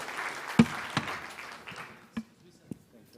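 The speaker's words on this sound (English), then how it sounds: "A round of applause for our panelists." Applause at a conference for the panelists fades quickly into a few sparse, separate claps that die away, with faint room murmur between them.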